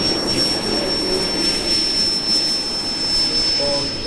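Steady, loud whine and roar of the jet engines on a large radio-controlled Boeing 777-9X model airliner, 3.6 m wingspan, at an airliner model meeting, holding constant throughout with a high thin tone on top.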